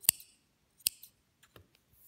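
Scissors snip through crochet yarn while an owl bookmark is finished, two crisp close cuts, a light rustle after them, then faint handling noises in a quiet room.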